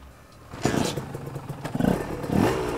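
Honda NSR 150 SP two-stroke motorcycle kick-started, catching on the first kick and running close by with a loud, rough, crackling idle and brief revs rising and falling.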